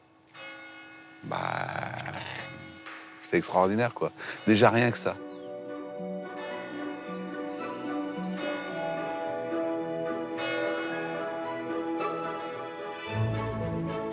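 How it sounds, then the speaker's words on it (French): Church bells ring out over a Champagne vineyard, a steady layered tolling that carries on for the whole stretch, with someone talking over it near the start. "vous entendez les cloches"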